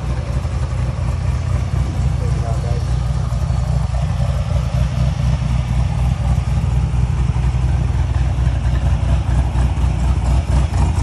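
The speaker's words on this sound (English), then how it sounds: "wanted to give you guys a quick walk around and rev it up a little bit so you guys can hear it" A cammed Chevrolet Corvette C7 Stingray V8 runs loud and close for about eleven seconds, a steady, choppy rumble with no clear separate rev peaks and no talking.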